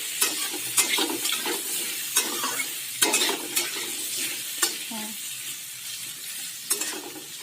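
Potatoes and kohlrabi fry in a pan and are stirred, with steady sizzling broken by repeated scraping strokes of a spoon, close and moderately loud with no talking.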